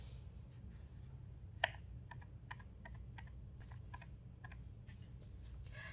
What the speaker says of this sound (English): We can scroll through these commands with the up or down keys on our keyboard.